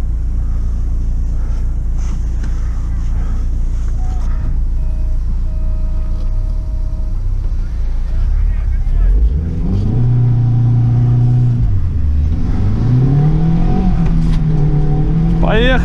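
UAZ Patriot 2019+ SUV with a ZMZ Pro engine idling and then pulling away off-road, with a loud, close engine rumble that rises and falls in pitch as it revs, and people talking over it.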